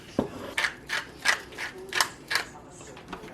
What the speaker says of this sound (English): Get a little grinder. Grind your own, nice and fresh.